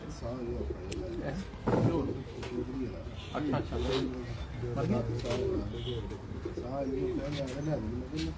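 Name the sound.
pigeon cooing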